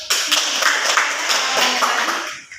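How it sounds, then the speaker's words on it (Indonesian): A class claps hands together during a micro teaching lesson, a short burst of close, fairly loud clapping from a small group with a voice briefly audible among it. "tepuk tangan untuk"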